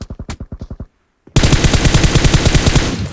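Automatic gunfire in PUBG Mobile, a first loud burst of about eight rapid evenly spaced shots, a short pause, then a second longer and denser burst of rapid fire, close and punchy.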